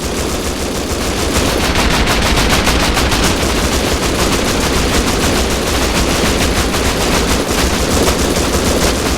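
Sustained automatic gunfire from the survival video game Rust, rapid dense bursts of shots filling the whole stretch, loud and close with no break.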